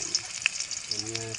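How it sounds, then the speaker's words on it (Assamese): Chopped onions fry in a hot pan with a steady, close sizzle and crackle, with brief stirring scrapes and a faint voice near the end. "প্ৰথমে পিঁয়াজখিনি যোৱাৰ পিছত ইয়াত ভাজি লোৱা হ'ব"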